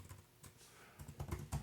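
Typing on a computer keyboard, a short burst of close key clicks and thumps that grows denser and louder toward the end, with no talking.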